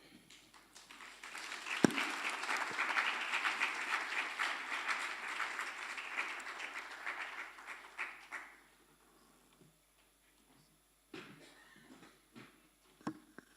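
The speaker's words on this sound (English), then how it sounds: "Shall we have another round of applause for" Applause from a lecture audience swells into a steady, moderately loud clapping that lasts several seconds, then stops abruptly, leaving a few scattered claps and quiet room sounds.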